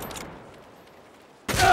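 Gunfire in Saints Row: a short burst of shots at the start, a quiet gap, then a loud, close volley of rapid fire erupting at the end.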